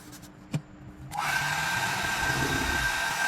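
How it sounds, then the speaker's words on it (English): A handheld blow dryer switches on after a short click and runs as a loud, steady whirring rush of hot air while drying a sprayed stocking wig cap. "After spraying and drying with my blow dryer"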